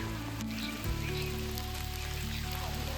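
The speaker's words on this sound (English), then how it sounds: "It's raining and I'm getting drenched." Steady rain falls outdoors near Charaideo in Assam, a dense continuous patter on surfaces, close and fairly loud, with no talk over it.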